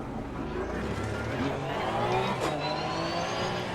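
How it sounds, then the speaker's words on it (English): A race car engine in Assetto Corsa Competizione, running and accelerating with a rising, revving drone that stays close and loud throughout. "Get the engine started. And off we go."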